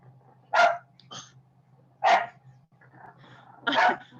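A dog barks three times at evenly spaced intervals against a low steady hum, the barks close and fairly loud, with quiet gaps between them.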